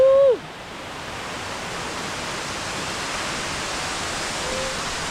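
Kipilas Falls pours down in a steady, loud broadband roar of rushing water, close and continuous, with a brief tonal whistle-like call at the very start before the falling water fills everything.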